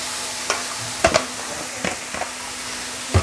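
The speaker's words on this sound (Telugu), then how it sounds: "కారం వేసుకొని బాగా వేయించుకోవాలి" Curry with chili powder fries in oil, a steady sizzle broken by a few close spoon scrapes and knocks against the pan.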